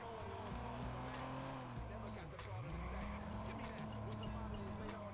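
A car drifts in a video game, its engine holding a steady tone while its tyres squeal repeatedly through the slide. The engine dips briefly before picking back up, and someone talks over it.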